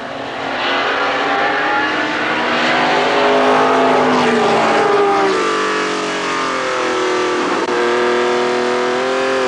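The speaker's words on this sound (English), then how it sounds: "Can-Am cars sounding glorious down the straight." Late-1960s Can-Am sports racing cars, including a Lola, roaring down a circuit straight: loud, sustained engine howl with rising and shifting pitch as the cars pass and accelerate, with no talking.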